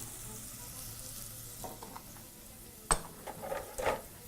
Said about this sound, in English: And you're going to proceed to fry those together, mixing through, making sure to coat everything with the spices.